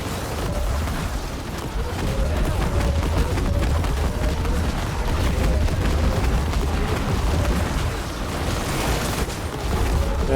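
Corpse explosion skills in Diablo 4 go off as a dense, continuous barrage of bursts and booms layered with game effects, loud and busy throughout with no clear gaps.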